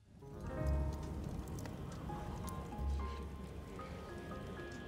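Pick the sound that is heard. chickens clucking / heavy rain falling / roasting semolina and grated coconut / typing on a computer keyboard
heavy rain falling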